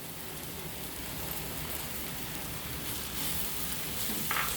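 A carrot sandwich filling, seasoned with garam masala and chili powder, fries in a pan with a constant, dense sizzle that holds an even loudness throughout.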